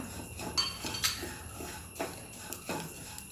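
A spoon clinks and scrapes against a pan while a cracked-wheat snack mixture with cardamom powder is stirred, giving sparse, close metallic taps with quiet gaps and no talking.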